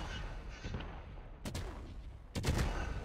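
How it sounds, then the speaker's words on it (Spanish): Fireworks explode in the Fireworks Mania video game, with two sharp, loud bursts about a second apart followed by crackling and booming over a steady rumbling background. "Y sigue explotando todo."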